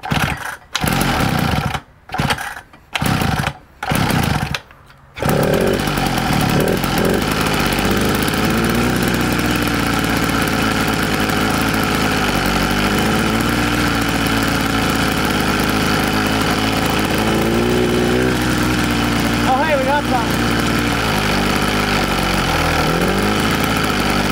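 Mud bike engine with a shift kit and carburetor trouble, at first catching in short bursts, then settling into a steady, loud, continuous idle running on the carburetor.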